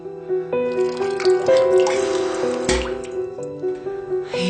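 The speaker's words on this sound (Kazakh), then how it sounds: "Мен қазір шай құйып келем." Tea poured from a pot, a steady trickling stream running for several seconds at close range, with a soft tonal hum beneath.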